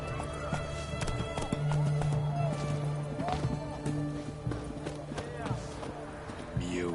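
Roach, a horse in The Witcher 3 video game, gallops with a rhythmic clip-clop of hooves under game music and ambience, while someone speaks over it and a whinny rises near the end.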